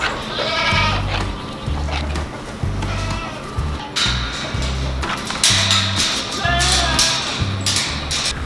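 Goats on a farm bleat repeatedly, loud and near, one shrill call after another. A steady low rhythmic pattern runs underneath.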